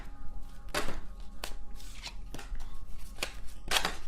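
Tarot cards being shuffled, a series of sharp riffling bursts and soft flicks spaced irregularly, close and fairly quiet with no talking.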